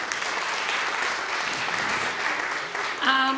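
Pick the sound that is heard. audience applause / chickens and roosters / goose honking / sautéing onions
audience applause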